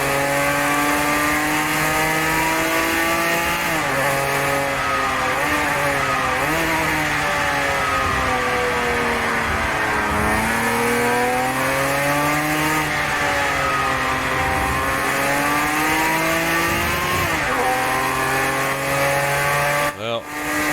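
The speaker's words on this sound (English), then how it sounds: "911 RSR sounds awesome." A Porsche 911 RSR racing engine in a racing sim screams loudly and continuously, with the pitch climbing through the gears, dropping on shifts and braking, then rising again.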